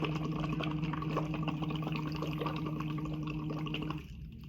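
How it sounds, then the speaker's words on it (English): Steady stream of bubbles blown through a tube into water during a Lax Vox voice exercise, a continuous bubbling gurgle with a sustained hummed tone, close and even, ending abruptly near the close. "blow a steady stream of bubbles"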